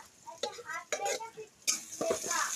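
Crushed garlic added to onions frying in a pan, bursts of sizzling and scraping stirs near and moderately loud, rising to a steadier sizzle at the end, with a voice talking over it.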